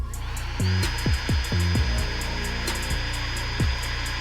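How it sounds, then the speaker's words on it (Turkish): Makita HP488D cordless drill whirring into wood in several short bursts with pauses between, close by over a steady background hum. "Bu Makita'nın HP488D şarjlı matkabı."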